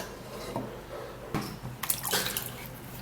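Water runs and splashes as a cucumber is washed under a tap, with a brief burst of splashing midway and steadier running water toward the end, close and moderately loud with no talking.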